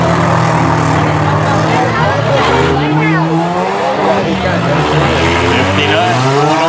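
Race cars lap a Demo X Racing track in Orangeville, Ontario, engines roaring loudly and continuously with shifting pitch as they accelerate and pass, tire noise mixed in, while an announcer talks over the action.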